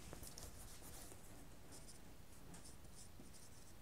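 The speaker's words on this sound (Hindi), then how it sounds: "अब यहां लिखेंगे इसेंट्रिसिटी" Pen writing on paper during a maths lesson on ellipses, a close, steady scratching and scribbling with short strokes running throughout, no voice.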